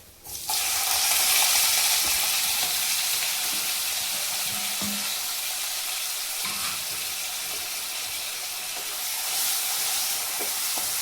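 Steady loud sizzling of onions sautéing in a hot pan, with occasional stirring scrapes and clacks, continuing without any talk.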